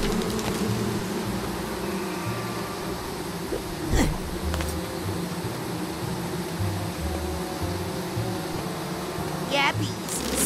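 Insect-like buzzing of bees in the video game Psychonauts 2, a steady droning hum running throughout with a few brief sharper accents, under continuous game background sound.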